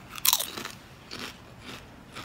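Spicy Chips Fuego tortilla chips crunched close up: one loud sharp bite followed by several softer crunching chews spaced out over a couple of seconds.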